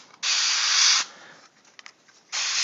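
Airbrush or spray paint hissing steadily onto a model dragon figure in two sustained close bursts, with a quieter stretch of faint clicks and hiss between them and no talking.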